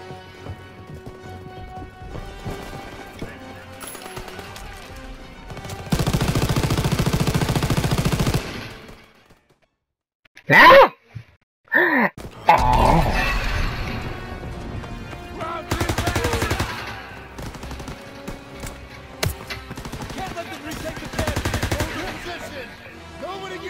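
Automatic weapon fire from a World War II D-Day beach battle in a video game, with bursts of gunfire and explosions rising and falling over dense battle noise, and shouted voices mixed in.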